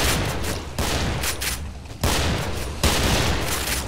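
Loud dense gunfire in the video game Killing Floor, a heavy continuous wash of shots and blasts with a few abrupt surges in intensity.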